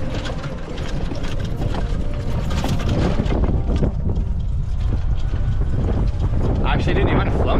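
Strong wind buffets the microphone on an outdoor golf course, a steady loud roar of gusts lasting throughout.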